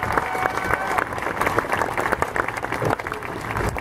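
A crowd claps loudly and continuously for young people at the opening of a hockey arena, a dense, even wash of applause filling the whole short stretch.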